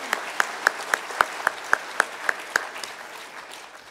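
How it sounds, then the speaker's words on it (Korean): Rhythmic unison clapping from a church congregation during a Sunday morning worship service, honouring a newly ordained elder: about ten sharp, evenly spaced claps over roughly two and a half seconds, then fading to quiet room tone. "우리 장로님의 박수 한 번만 부탁드립니다"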